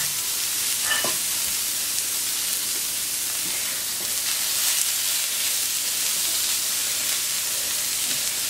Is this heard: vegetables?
yes